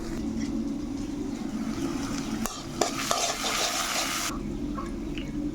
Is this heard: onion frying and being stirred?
yes